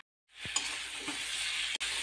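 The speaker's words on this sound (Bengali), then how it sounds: "আমি এখন টমেটো দিয়েও কষিয়ে নেব।" Potatoes and chopped tomatoes sauté in a pan, a close, even sizzling hiss that starts after a brief silence, with a soft scrape or two of the spoon and a momentary dropout near the end.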